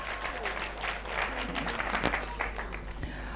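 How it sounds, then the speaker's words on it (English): Audience applause fills a hall at an entrepreneurship conference award moment: a dense, steady patter of many hands clapping for a few seconds at moderate loudness. "So give her another round of applause."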